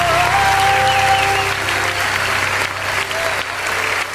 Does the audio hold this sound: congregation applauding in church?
yes